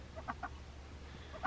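A flock of about thirty chickens clucks softly inside a barn, a few brief, faint clucks scattered over a quiet low background.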